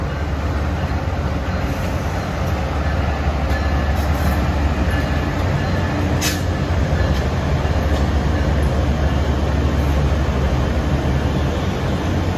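A New Jersey Transit heritage train rumbles steadily at Hoboken Terminal during a heritage festival, a loud continuous low drone of idling rail equipment with faint clanks and no break throughout.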